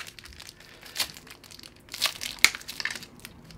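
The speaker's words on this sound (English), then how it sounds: "get the plastic off the back." Plastic film being peeled off the back of an LG OLED C9 55-inch TV, giving quiet, close crinkles and sharper crackling bursts in an irregular rhythm.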